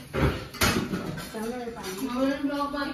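Household utensils and pots clatter in a home kitchen while being washed, with sharp metallic knocks near the start and around half a second, then a voice talking over softer handling sounds.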